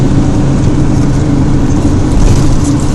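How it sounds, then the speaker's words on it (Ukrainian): Harley-Davidson motorcycles ride on a road with bikers in France, their engines giving a loud, continuous, close rumble that stays steady throughout, with no voices. "Харлі Девідсон мотоцикли."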